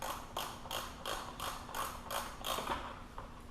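Ratchet wrench and socket turning the clutch on a Stihl FS50C string trimmer, giving a steady series of about nine evenly spaced clicking strokes, close and fairly loud, with no talking.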